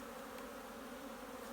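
Honey bees buzzing at an opened hive, a dense steady hum of many insects, close and continuous with no talking.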